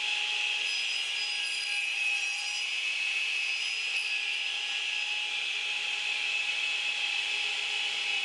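A radial arm saw cutting tapers in a wooden workpiece, giving a steady, loud, high-pitched whine and grinding roar that holds without break throughout.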